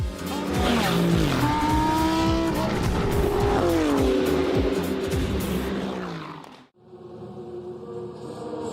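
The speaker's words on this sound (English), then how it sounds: "We are underway and racing in the GT Winter Series" GT race cars roar loudly at Circuit de Barcelona-Catalunya during a GT Winter Series race, several engines rising and falling in pitch as they pass close by, with squealing tires, before the noise cuts abruptly to a quieter, more distant engine drone.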